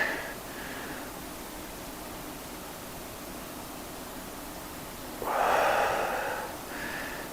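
Hard, breathy exhales come through in bursts during a hip mobility stretch, with a loud rush near the end over faint background hiss.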